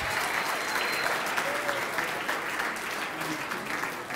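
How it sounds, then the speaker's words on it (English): Sustained, dense applause from an awards-ceremony audience greeting a university president, a steady wash of many hands clapping throughout with no break. "How about a big round of applause for the leader of our flagship institution, the University of Mexico"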